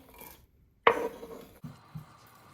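Chopped onion dropping into a cooking pot of hot whole spices such as bay leaf, cardamom, cloves and cumin, giving one sharp close splash followed by softer sizzling and a couple of small knocks.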